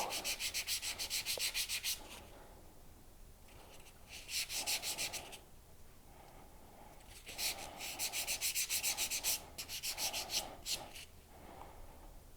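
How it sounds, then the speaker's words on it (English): Repeated bursts of sanding bronze clay pieces, a dry rhythmic rasping in several close, steady strokes separated by short pauses. "So I'm just sanding the front and back so they're going to fit together perfectly."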